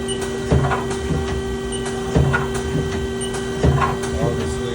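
A CNC lathe runs at an industrial machinery auction, giving a steady mechanical hum with faint tones and a dull clunk that repeats about every second and a half, close by with no talk.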